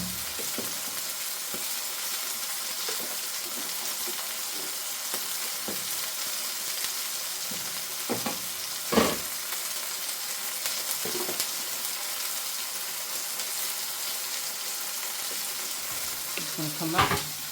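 A pan of red wine and mushroom gravy sizzles and simmers steadily while a spoon stirs and scrapes it now and then, with occasional clinks close by.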